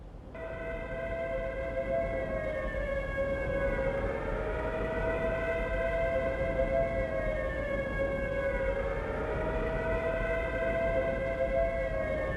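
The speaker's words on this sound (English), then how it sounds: "as soon as we hear those air raid sirens." A wailing air raid siren from the PS2 game Prisoner of War rises and falls continuously, loud and steady, with layered tones sweeping up and down for the whole stretch.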